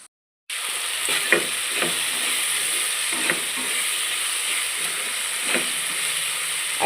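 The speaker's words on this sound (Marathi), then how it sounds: "असं तेल सुटेपर्यंत आपल्याला टोमॅटो भाजून द्यायचा" Tomato and masoor curry frying in oil in a pan, a continuous close sizzle with occasional louder pops, starting abruptly after a brief silence.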